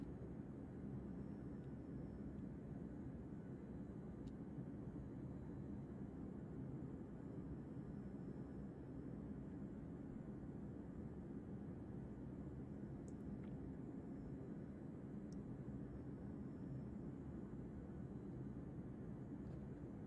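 Fixed-wing aircraft engine in the military simulation game Arma 3 during a landing approach, a steady low droning rumble held evenly throughout, with no voices.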